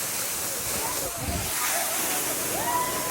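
A steady, loud roar of falling water at a waterfall in Bhudargad fills the clip, a constant rushing wash with faint voices mixed in.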